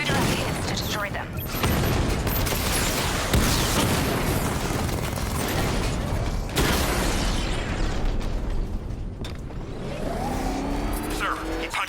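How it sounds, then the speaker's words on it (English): Heavy tank cannon fire from the Batman Arkham Knight video game, a 60mm gun pounding armored units, booming loud and continuous amid engine roar, blasts and mechanical clatter with game voices over the top. "The 60mm cannon will penetrate these heavily armored units"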